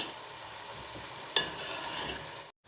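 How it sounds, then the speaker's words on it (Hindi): Cooked chana dal being mashed in a pot for chicken chana dal, a steady soft stirring and squishing texture with one sharper scrape midway, close and continuous until it cuts off near the end. "तो मैं इसको थोड़ा थोड़ा सा मैश करूँगी।"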